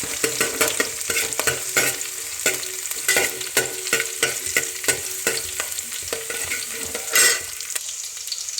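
Chopped ginger, garlic and green chilli fry in a pan with a steady sizzle and repeated scraping stirs, loud and close, with no voices.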